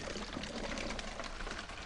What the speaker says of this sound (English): he makes a whirlpool